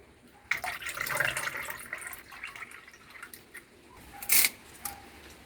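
Water being poured into a pot of Kerala-style rasam, a close pouring and splashing rush that builds and swells for a few seconds, then a couple of short bright splashes near the end.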